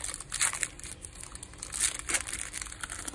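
Plastic Match Attax 20/21 football card packets crinkle and crunch in short bursts as they are snipped with scissors and handled up close, quiet and intermittent.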